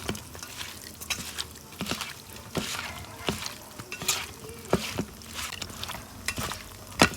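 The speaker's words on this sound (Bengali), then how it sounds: "ভালো করে মাখিয়ে নিব।" Curry ingredients being mixed by hand with spices and plenty of oil, a close series of wet squelching slaps and pats at an irregular rhythm, with no talk.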